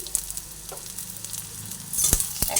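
Onion, garlic and grated ginger fry in hot oil in a pan, a close, bright sizzle with a few scraping stirs and louder crackles near the end.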